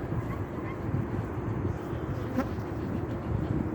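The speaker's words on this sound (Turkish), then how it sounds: "şu an arımı açıp bir kontrol etmek istiyorum" Honeybees buzz steadily in an opened hive during a January colony check, a dense, continuous close-up drone with no pauses.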